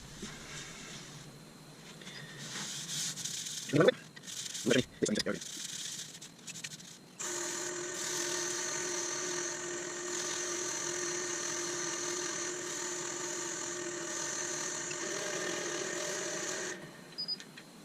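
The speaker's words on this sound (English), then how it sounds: "I'm just going to give it a rub down with a bit of True Grit." Abrasive sanding on a spinning ash bowl on a wood lathe, a steady whining motor drone with a strong hum lasting about nine seconds, preceded by short scraping bursts and some talk.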